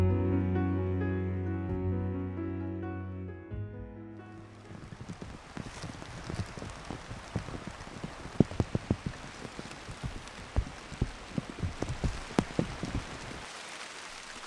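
Rain falls in Pyeongchang, Gangwon, a steady close patter of drops striking a surface with sharp, irregular taps, beginning after a soft musical passage fades out.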